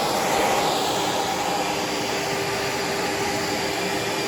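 A late-1980s grey and yellow Kenmore Powermate 3.9 canister vacuum cleaner running steadily during a suction test, a loud, continuous whooshing roar with a faint high whine.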